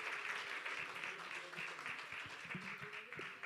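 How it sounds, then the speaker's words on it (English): A crowd at a campaign launch event gives sustained applause, dense clapping from many hands with faint voices mixed underneath, heard at a moderate distance. "A big round of applause one more time."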